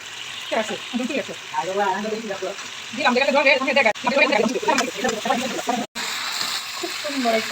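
Chicken meat with bean seeds sizzles in a pan, a steady frying hiss with some stirring beneath a person talking throughout.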